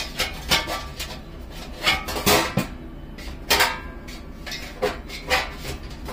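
Metal parts of a new charcoal barbecue grill clank and rattle as they are unpacked, with several sharp knocks and scrapes spaced irregularly at close range, no talking.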